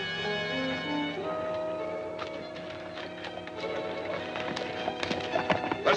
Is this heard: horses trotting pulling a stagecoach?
yes